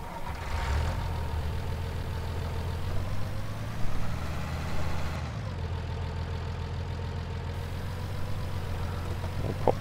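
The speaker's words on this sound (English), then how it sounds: "I'll pull this tractor out, because we'll need to get the trailer off." A tractor engine in a farming video game idles steadily throughout, a low continuous rumble with a slight shift in pitch partway through and no talking.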